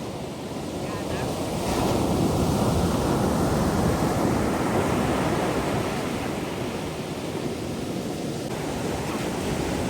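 Big sea waves crash and roar continuously around a fishing boat at sea, a loud, dense wash of surf with wind buffeting the microphone throughout.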